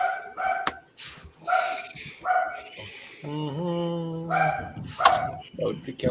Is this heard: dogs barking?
yes